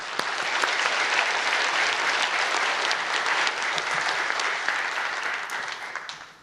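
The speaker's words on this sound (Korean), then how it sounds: "우리에게 은혜를 주신 하나님께 영광의 박수 올려드리겠습니다" A church congregation breaks into warm, steady applause after the sermon, a thick wash of many hands clapping that holds evenly for several seconds before tapering off at the close.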